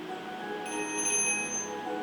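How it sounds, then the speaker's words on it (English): Bell ringing steadily with bright sustained metallic tones over a constant background hum, moderately loud throughout. "the bell would not stop ringing"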